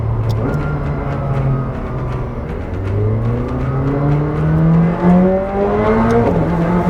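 A rear-wheel drive supercar engine accelerates hard, heard close from inside the cabin, its roar climbing steadily through the gears with a brief shift dip, loud and continuous.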